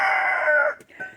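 A cream legbar chicken from a backyard flock crows once, loud and close, the call trailing off into a short, softer squawk.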